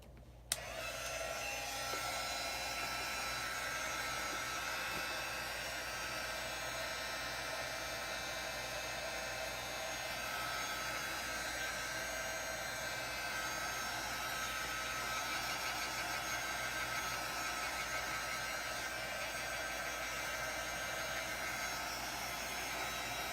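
Steady hair dryer or heat tool blowing close and loud without a break, drying wet paint on a paper bag art journal page, with no talking over it.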